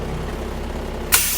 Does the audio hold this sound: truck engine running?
yes